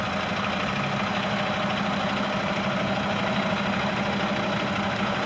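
A 2015 Caterpillar CT660L heavy truck's diesel engine idles with a steady low rumble and even rhythmic throb, constant and close with no variation.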